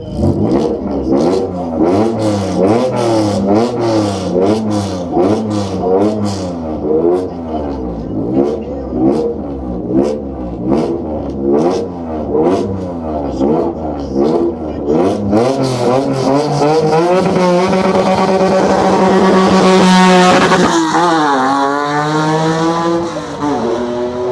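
A roll-caged GT car climbs the hill at the Kop Hill hillclimb festival, its engine revving hard through repeated gear changes, loud and close, then a sustained higher-pitched rising drone as it pulls away.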